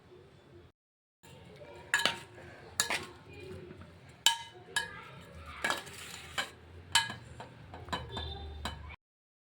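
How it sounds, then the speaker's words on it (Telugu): A spoon stirring vegetable macaroni pasta with coriander in a metal pan, a series of irregular clinks and scrapes with short pauses, close and clear, no talk. "మంచిగా కలుపుకోండి."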